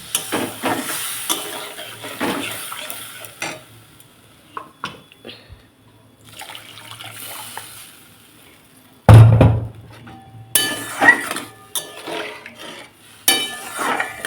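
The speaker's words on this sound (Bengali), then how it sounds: "এবার একটু ভেজে নিয়েছি আর আমি সর্ষে পোস্ত ধোয়া যে জলটা ছিল মশলা ধোয়া ওটা দিয়ে দেবো" Mustard-poppy spice water hits hilsa fish frying in a pan, bursting into a loud, sudden hiss that fades into steady sizzling, with utensils clinking and stirring around it.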